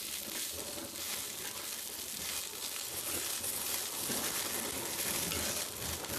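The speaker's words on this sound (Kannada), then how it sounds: "ಇವಾಗ ಬೆಳ್ಳುಳ್ಳಿ ಮೆಣಸಿನಕಾಯಿ ಫ್ರೈ ಮಾಡ್ಕೊಂಡ್ರೆ" Garlic and chillies fry in hot oil in a pan, a steady loud crackling sizzle with bright hiss throughout and occasional sharper pops, no talk over it.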